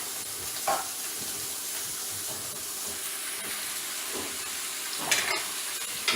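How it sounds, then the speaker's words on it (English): Onion deep-frying in a pan with green chilies gives a steady, soft hiss of sizzling oil, with a few faint clinks and stirring sounds over it. "we have deeply fried this onion"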